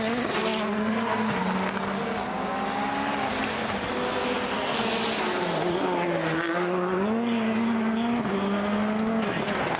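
Rallycross race cars, an Audi among them, compete in a qualifying session at the Euro RX of Ireland, engines roaring loudly and steadily with rising and falling revs and tire squeal throughout, a commentator talking over the noise.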